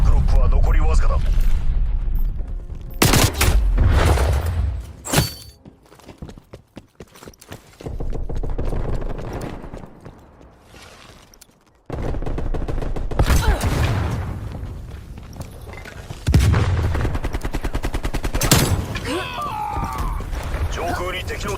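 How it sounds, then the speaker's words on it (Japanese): Incoming artillery in Call of Duty: Black Ops Cold War arrives as several heavy, rumbling blasts and crashing impacts spread across the clip, with loud swells and quieter lulls between them and radio voices speaking in places. "通信、砲撃が来るぞ。"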